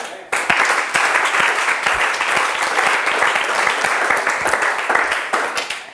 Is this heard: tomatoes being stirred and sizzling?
no